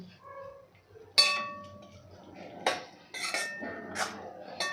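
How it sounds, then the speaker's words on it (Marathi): A spoon stirs cooked chana dal into tomato masala in a pan for a dhaba-style dish, with sharp metallic clinks and scrapes standing out at close range over a quieter background. "आता यामध्ये घालायचं आहे आपल्याला ही शिजवलेली डाळ आणि सगळं आपल्याला एकदा मिक्स करून घ्यायचं आहे"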